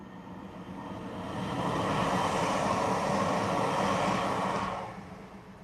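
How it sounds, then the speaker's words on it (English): A DRS Class 66 diesel locomotive passes slowly, a broad rumbling rise that swells over a couple of seconds, holds steady, then fades away, heard alone without voices. "DRS class 66 going very slowly"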